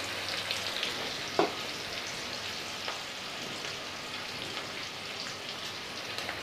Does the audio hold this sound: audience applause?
no